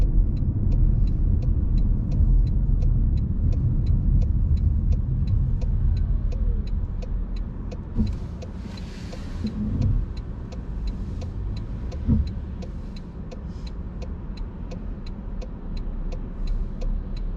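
A car driving along a road during a UK driving test near Crawley, a steady low engine and tyre rumble from inside the cabin, with a regular ticking indicator and a brief faint rustle partway through.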